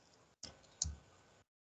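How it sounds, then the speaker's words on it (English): A single computer keyboard key press, the up arrow, while a command is recalled at a terminal: two soft, close clicks about half a second apart in an otherwise quiet room, with no talking. "Just press the up arrow key."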